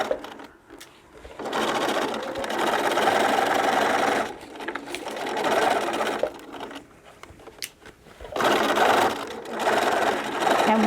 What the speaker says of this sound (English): having your sewing machine sitting down in a table